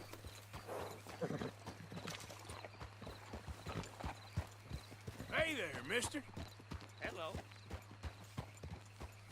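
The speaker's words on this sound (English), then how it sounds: "That's a fine horse you got there." Steady, evenly spaced horse hoofbeats clip-clop at a walking pace in the video game Red Dead Redemption 2 while people exchange a few words over a low hum.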